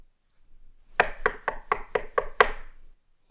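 Seven firm knocks land on a door in a quick, steady rhythm, hollow and close, with brief quiet before and after and no talking.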